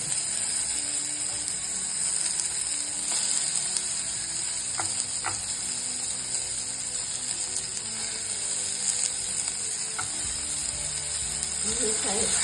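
Finely chopped tomatoes sizzle in a pan with golden-brown onions for an eggplant bharit, giving a steady, dense frying hiss throughout with a few faint clicks of a spoon and no talk.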